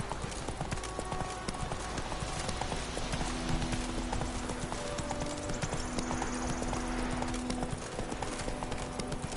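Horse hooves clip-clop steadily at a gallop in The Witcher 3 video game, loud and continuous, with faint game ambience and a brief voice.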